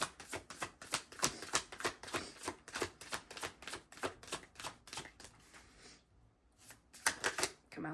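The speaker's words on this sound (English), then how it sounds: "let me pull some more cards" Tarot cards are pulled and flicked from a deck in quick, crisp, clicking bursts up close, pausing briefly before a few more snaps.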